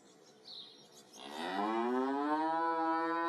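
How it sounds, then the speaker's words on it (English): A single sampled cow lets out one long, rising moo that swells after a faint, breathy start and holds steady and close to the end. "we got multiple cows here going."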